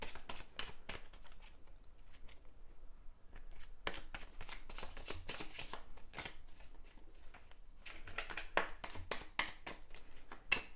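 A deck of tarot cards being shuffled by hand, giving repeated rapid riffles and crisp flutters in bursts with brief pauses, close and fairly quiet, with no talking.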